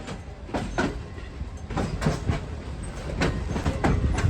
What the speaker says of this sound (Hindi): और आज ये ट्रेन प्लेटफॉर्म नंबर 1 पर जा रही है कराची कैंट रेलवे स्टेशन के।